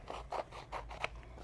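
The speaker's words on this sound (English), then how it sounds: "take your scissors, and if you'll cut it into 4 increments" Scissors snipping through adhesive craft vinyl, a handful of soft, rhythmic crisp cuts in quick succession, fairly quiet and close with no voices.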